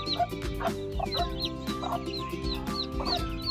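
Backyard hens with broods of chicks make soft, repeated clucks while the chicks give high thin peeps throughout, close and steady, with no talk.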